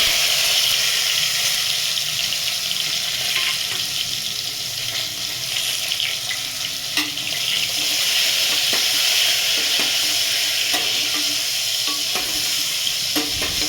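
Masala-stuffed brinjals sizzle in hot oil, giving a loud, steady, close frying hiss that runs the whole time with faint occasional clinks and no talking.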